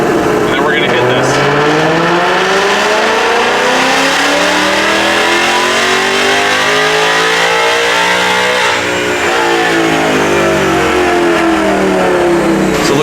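A 2018 Ford Mustang GT with intake and exhaust tune roars through a sustained full-throttle pull in sixth gear, loud and close, engine pitch climbing steadily with a brief dip near the end.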